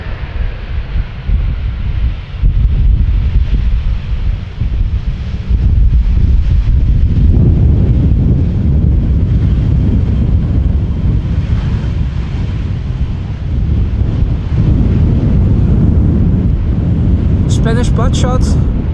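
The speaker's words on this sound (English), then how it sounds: "it is actually a bit chilly with the wind constantly blowing here" Strong wind buffets the microphone constantly at Amsterdam Schiphol Airport, a loud rumbling roar that surges and eases over many seconds, with a faint distant aircraft whine beneath and a brief chirpy sound near the end.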